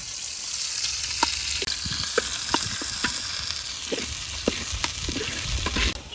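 Fish frying in a little oil with spices in a village kitchen, a continuous bright sizzle with scattered sharp spatters and pops, close and steady throughout with no talking.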